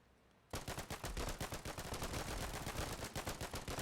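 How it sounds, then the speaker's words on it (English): Rapid machine gun fire in the war video game Foxhole, a loud sustained burst of fast, evenly spaced shots that starts suddenly after a brief quiet moment and continues without a break. "he's got a machine gun over there. Shoot him a few times."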